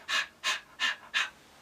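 A voice imitates panting: four quick, evenly spaced breathy huffs, close and clear, with short silences between them and nothing else around.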